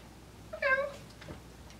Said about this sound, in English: we got a cat in the studio